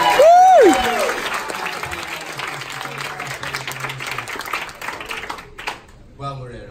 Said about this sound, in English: Can we please get a round of applause for Steve Becky?